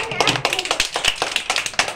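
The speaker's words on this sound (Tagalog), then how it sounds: "Palakpak!" Children clapping their hands in a classroom with their teacher, a quick run of close, sharp claps in an uneven rhythm, with voices mixed in.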